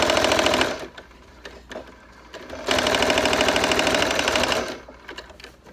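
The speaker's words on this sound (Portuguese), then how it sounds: "eu prendo com um pezinho de máquina. Também dando retrocesso no começo e no fim aqui da costura." A sewing machine stitches a crib sheet in two fast, steady bursts of close-up mechanical chatter. A short pause with scattered clicks separates them, and a brief tail follows the second run.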